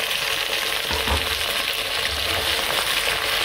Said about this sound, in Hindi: जो हमने पहले उबाला हुआ है गोश्त, इसको शामिल करके 2 मिनट हमने फ्राई करना है